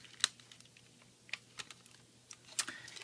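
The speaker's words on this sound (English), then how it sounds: "Go ahead and snap it in." Plastic parts of a Takara Tomy Transformers Masterpiece MP-13 Soundwave action figure being folded and snapped into place, giving scattered sharp clicks and small clacks, close and fairly quiet, with no talking.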